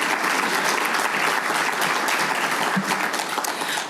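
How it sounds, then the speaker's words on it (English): Dense, steady applause from an audience at a sponsored Italian breakfast fills the whole stretch, loud and unbroken with no voices standing out. "Another round of applause for Sarah."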